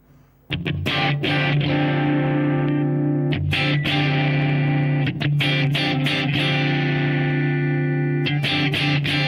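An electric guitar runs through a Line 6 POD 2.0 Marshall Plexi amp model with slight bright distortion, strumming rhythmic chords in short choppy bursts with brief gaps, loud and alone.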